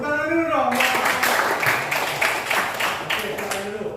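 An audience claps together in a classroom setting, a dense burst of applause that starts after a brief spoken prompt and continues steadily for a few seconds at moderate loudness.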